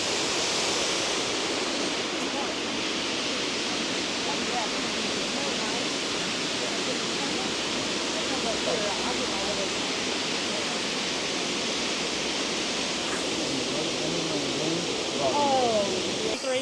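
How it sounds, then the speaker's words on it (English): Soco Falls, a double waterfall where Soco Creek and Rough Branch meet in the Smokies, roars as a steady broad rush of falling water, loud and constant throughout. "So we got a double waterfall here. We got Soco Creek and Rough Branch, making Soco Falls."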